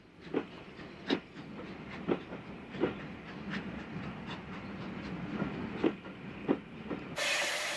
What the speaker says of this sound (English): City of Wells, after a bout of wheel slip, pulls its train out of the station and into the stabling sidings